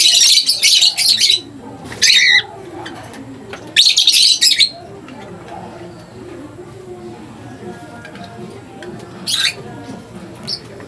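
A fledgling bird with splay legs chirps in several short, shrill bursts, close and loud, separated by pauses, over a low murmur of background talk.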